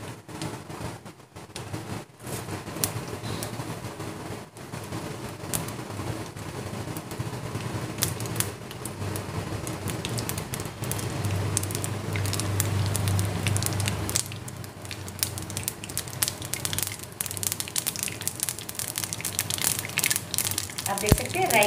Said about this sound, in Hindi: आप देख सकते हैं राई अच्छे से तड़कने लग गई है।